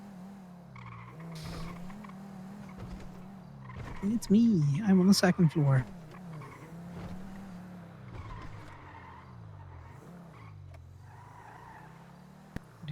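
A car in the game GTA drives with a steady engine drone and a loud burst of skidding tire squeals lasting about two seconds, while a person talks over it.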